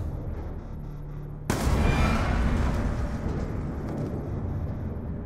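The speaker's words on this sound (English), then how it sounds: "Shoot him in the leg." A sudden loud gunshot in the Call of Duty: Black Ops II video game breaks a quiet scene and is followed by a long rumbling echo that slowly fades.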